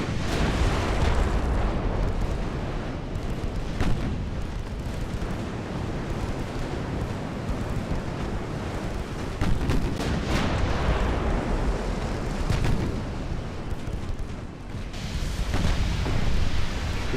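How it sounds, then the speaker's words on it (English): A torpedo detonating in a naval strategy game set in the 1900s, a loud sustained roar of explosion with rumbling bursts continuing throughout. "Torpedo detonation."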